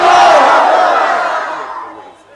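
A political rally crowd answers a takbir call with one massive unified shout, loud and sustained, then fading away over a couple of seconds.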